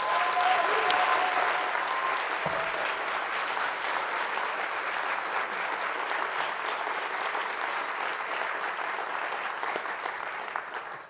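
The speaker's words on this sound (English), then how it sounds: "Can we give our students a round of applause?" A hall audience gives a round of applause for students at a fall opening meeting, steady dense clapping holding evenly loud for the whole stretch.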